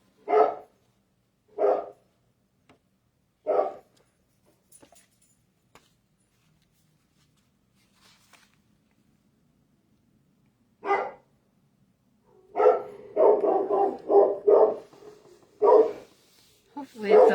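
Dog barks in sharp bursts from a room nearby, three early barks at steady intervals, then a lone bark and a rapid, louder cluster of barking toward the end, quiet gaps in between.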